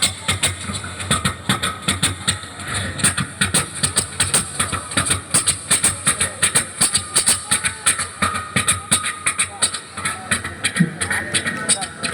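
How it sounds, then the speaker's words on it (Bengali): A generator runs steadily in the background at an outdoor 50th anniversary reunion gathering of a high school, its engine putting out a rhythmic chugging throb under a voice that talks over it. "ভটভটি ওই পেছনে চলছে জেনারেটর"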